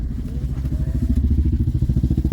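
A motorbike or scooter runs on a snowy mountain road near Manali, its engine putting out a steady, close, pulsing low rumble that holds for the whole stretch, with a faint high whine drifting over it.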